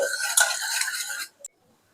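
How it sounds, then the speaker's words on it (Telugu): Three eggs get beaten briskly for homemade biscuits, a rapid whisking swish that runs steadily for over a second, then stops, with one short tap after it. "ఈ మూడు ఎగ్స్ ఇలా బీట్ చేసుకోవాలండి"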